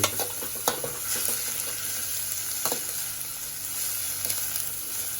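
Chilies frying in a pan, a loud continuous close sizzle with a few sharp stirring clicks and scrapes over it, no talking.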